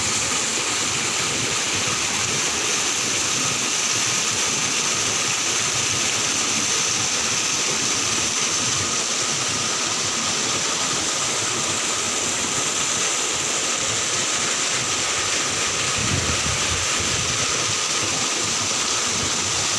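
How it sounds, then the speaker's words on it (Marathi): Water from a farm well's motor pump gushes into the well, a steady, loud rushing roar that holds even and unbroken throughout, with no voices. "विहिरीमध्ये पाणी सोडलं किती सुंदर आवाज येतो ना पाण्याचा"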